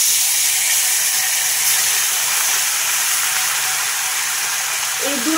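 Fish frying in hot oil in a wok, a steady loud hiss and sizzle that holds throughout, close and without talk.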